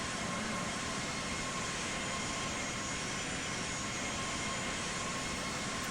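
Airliner jet engines taxiing in the flight simulator game Infinite Flight drone as a constant, dense broadband roar with a faint steady whine, loud and unbroken throughout, without voices.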